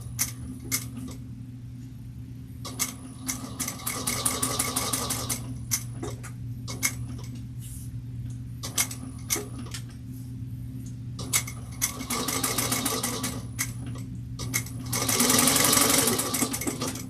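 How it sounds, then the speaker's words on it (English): A sewing machine topstitches fabric an eighth of an inch from the edge on a bowler bag. Close, loud bursts of rapid stitching are separated by short quiet pauses. "we're going to top stitch at 1/8 of an inch down each side"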